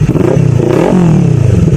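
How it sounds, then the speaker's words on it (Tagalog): A Kawasaki Ninja 400 motorcycle fitted with an Akrapovic exhaust revs loudly and close by, its engine note rising and falling in short throttle blips with a raspy, rumbling tone. "So maganda yung tunog ng tambucho na nabili ko ngayon."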